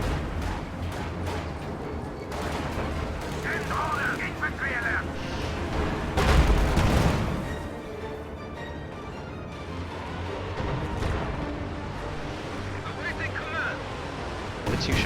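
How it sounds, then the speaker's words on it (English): Katyusha rocket launcher firing in a tank battle video game, a dense rumbling roar that swells in the middle over steady battle noise and distant blasts, with a commentator talking over it. "Katusha firing in the middle."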